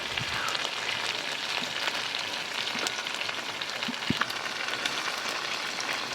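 Butter sizzles steadily in a hot pan with half-cooked, dry-braised desi chicken, a continuous close broadband crackle with a few sharper pops and no talk.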